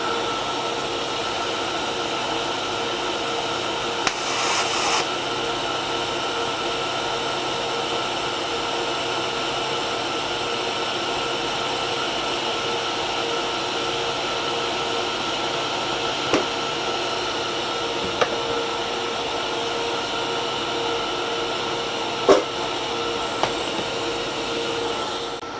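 An R Tech TIG 160FPP welder runs a pulse weld at 20 pulses per second, giving a steady, even electrical hiss and hum that holds throughout at moderate level, with a few small clicks and no talk.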